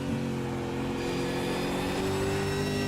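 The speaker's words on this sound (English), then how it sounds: "Oh, did you hear the engine?" V8 Supercar engine in a racing sim at the Red Bull Ring, a loud continuous engine roar with shifting pitch as it downshifts under braking, heard close and without talk.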